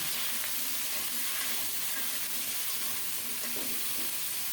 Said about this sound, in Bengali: মাছ ভাজার তেলে আলু আর শালগম একটু ভেজে নেব